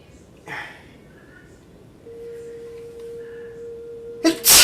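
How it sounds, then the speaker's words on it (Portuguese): A single person sneezes loudly and close at the end, after a brief faint inhale, over a quiet room with a steady faint tone. "espirrei."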